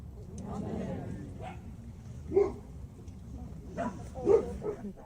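Dogs at a memorial gathering bark a couple of times, sharp and mid-distance, over a steady murmur of people talking.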